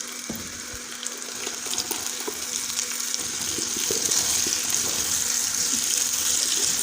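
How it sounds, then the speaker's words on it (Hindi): Onion and tomato paste masala fries in a pot, a steady hissing sizzle with scattered crackles and scraping stirs that grows slightly louder over several seconds. "अब हम इसको अच्छे तरीके से भून के मसाला तैयार कर लेंगे।"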